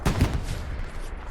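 Machine gun fire in a multiplayer war video game, a short loud burst of rapid shots right at the start that quickly trails off into a dull rumbling echo.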